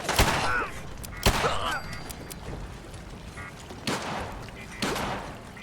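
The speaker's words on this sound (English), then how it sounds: "he's firing at me all the way from over there" Gunfire in the Fallout 4 video game: several sharp shots spaced a second or more apart, loud and close, over a quiet background with a faint voice.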